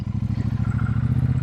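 Royal Enfield Shotgun 650 motorcycle cruising on an open road at sunset, a steady low twin-cylinder engine thrum with rapid rhythmic pulsing and wind rush, continuous and close.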